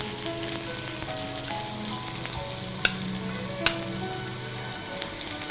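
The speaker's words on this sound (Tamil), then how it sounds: "சீரகம் பொரிஞ்சிடுச்சு. இப்போது ஆனியன் போடுறேன்" Onions sizzle in hot oil with popped cumin seeds, a steady, fairly quiet frying hiss broken by two sharp clinks of a utensil against the pan.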